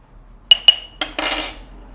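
A spoon strikes a metal cooking vessel twice with sharp ringing clinks while a teaspoon of salt goes into a mutton intestine and stomach curry, followed by a softer tap and a brief scraping rattle.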